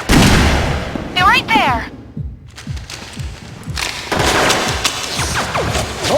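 Heavy gunfire crackles through a firefight in the video game Perfect Dark Zero, dense bursts and thuds running nearly throughout with a brief lull midway, while voices talk over the shooting.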